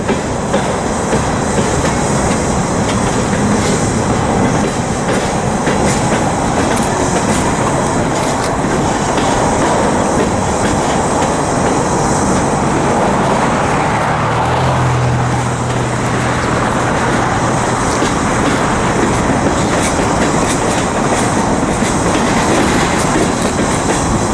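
A long freight manifest train rolls steadily past nearby at a rail yard, a continuous loud rumble with rhythmic clickety-clack of wheels over rail joints throughout.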